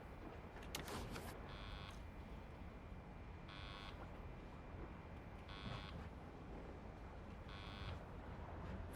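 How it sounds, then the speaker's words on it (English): Water alarm aboard a flooding boat in a video game, a buzzing electronic tone pulsing in four evenly spaced bursts over a constant low engine rumble, quiet and without voices. "Water alarm?"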